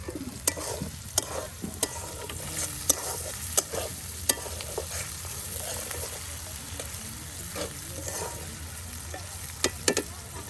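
Pangas fish with vines fries in a pan for a curry by a riverbank, a continuous close sizzle with regular sharp clacks of a utensil stirring and scraping against the pan throughout.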